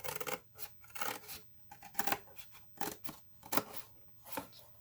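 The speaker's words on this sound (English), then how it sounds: "Another reason I'm using this is just so I can use scissors." Scissors snip repeatedly through cardboard while a homemade tarot box is being cut out, giving a run of crisp, close cuts in an uneven rhythm with no talking.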